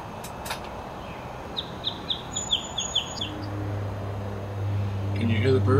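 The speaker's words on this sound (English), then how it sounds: "Can you hear the birds?" Birds chirp outdoors beside a river, a quick run of bright repeated tweets near the middle over a steady background hum, with a low engine-like drone building toward the end.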